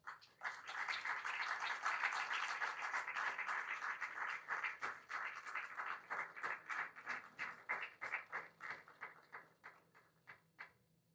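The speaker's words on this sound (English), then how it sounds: "turn towards your parents, and give them a huge round of applause" Graduation ceremony audience gives a sustained round of applause for the parents, loud dense clapping that thins into scattered individual claps toward the end, with no talking.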